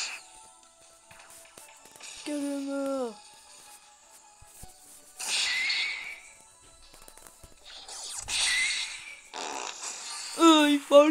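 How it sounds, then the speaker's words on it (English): Cartoonish fart sound effects in the Roblox game Blox Fruits pop up in several short bursts with pitch-bending squeaks, mixed with other game sounds at moderate volume. "why is bro farting on me?"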